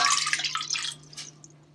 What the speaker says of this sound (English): add 7 cups of water to a pot.